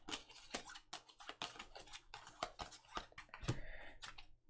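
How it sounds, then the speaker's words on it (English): Cards for the Cartographers board game are shuffled quietly at close range: a series of short, crisp snaps and flicks in an irregular rhythm. "we're going to shuffle these as well"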